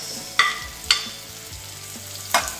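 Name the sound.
tomatoes added to red onion sautéing in pan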